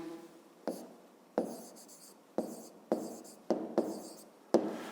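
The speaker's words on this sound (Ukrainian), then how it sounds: "Я беру тоді і відкладаю горизонтально промінь" Pen or pencil strokes drawing a horizontal ray for a fifth-grade geometry exercise: seven short, sharp scratches in an uneven rhythm, close-up and alone against a quiet room.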